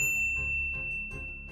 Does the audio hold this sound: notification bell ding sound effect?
yes